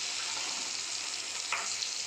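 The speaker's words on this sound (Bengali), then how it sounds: "কুমড়ো ভাজা করছি আজকে" Pumpkin pieces fry in a pan at home for a lunch meal, giving a steady, close hiss and sizzle of hot oil throughout with a faint stir partway through.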